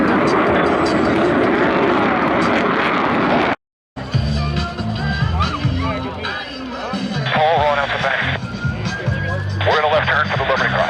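Blue Angels jets roar loudly over an airshow crowd, a broad rushing engine noise at first, then continuing beneath a public-address announcer's amplified voice.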